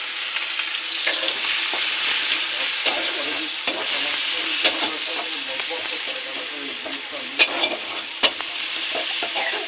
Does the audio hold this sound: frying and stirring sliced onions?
yes